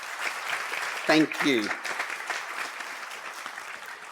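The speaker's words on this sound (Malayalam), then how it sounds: "നമുക്കൊന്നും കൂടെ ആ കൊച്ചിനെ കൈയടിച്ച് തന്നെ വരാം." Audience applause at a parish farewell gathering, a crowd clapping steadily throughout, briefly louder near the middle, with a voice speaking a few words over it.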